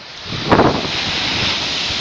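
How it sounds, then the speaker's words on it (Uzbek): Wind and surf roll steadily along the Black Sea shore at a fishing spot, a continuous broad roar with one brief gust or wave surge near the start. "Mana shu qora dengiz bo'ladi."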